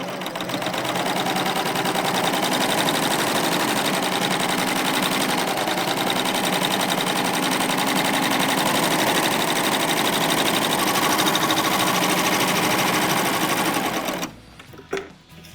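Baby Lock Euphoria serger running steadily while stitching decorative thread on fabric, a fast continuous mechanical whir held close and loud for about fourteen seconds before it stops abruptly.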